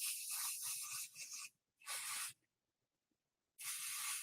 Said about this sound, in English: we're going to use the Pixie spray